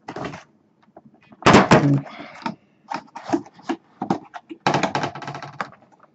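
An EVGA GTX 970 graphics card box is opened by hand, with close bursts of cardboard and plastic rustling, scraping and crinkling in irregular clumps separated by short pauses.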